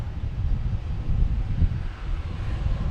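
A JetBlue Airbus A320 airliner bound for JFK produces a steady, broad jet engine roar outdoors at Boston Logan Airport, loud and continuous with some wind buffeting and no talking.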